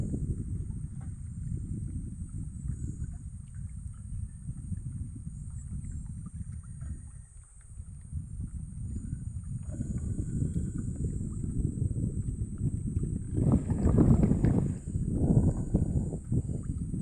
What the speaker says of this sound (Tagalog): malakas ang habagat